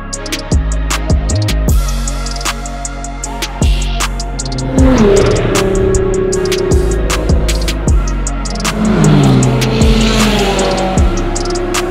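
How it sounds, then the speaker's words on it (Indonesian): A Subaru BRZ at speed on a time attack lap at Mandalika circuit, its engine revving hard and rising with repeated gear changes and brief tire squeal, close and loud throughout with no talk. "Kita cobain time attack di sirkuit Mandalika pakai Subaru BRZ ini."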